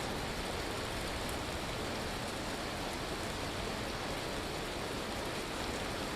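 Rain falls in the survival video game Vintage Story as an even, unbroken hiss of steady downpour that stays soft and constant throughout, with no voices.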